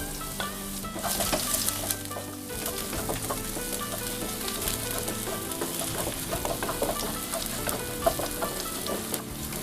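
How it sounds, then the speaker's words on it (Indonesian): Garlic and ginger sizzle and crackle as they sauté in hot oil, a dense continuous frying hiss with scattered pops and a few stirring scrapes. "Panaskan sedikit minyak lagi, lalu tumis bawang putih dan jahe."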